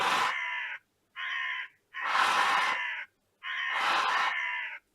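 A crow caws four times, loud and harsh, with short pauses between the calls.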